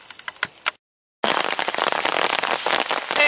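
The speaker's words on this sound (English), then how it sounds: "it is raining" Rain patters down by a creek during fishing, a dense steady hiss of drops that drops out briefly before resuming louder and closer.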